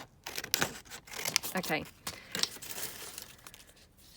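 Scissors cut a vintage picture for a collage frame, with a few quiet, scattered snips and paper rustles, close by, around a brief spoken word.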